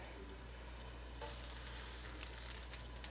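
Onions hit hot olive oil on a grill, a steady sizzle and crackle that jumps louder about a second in and keeps frying at close range with no voices.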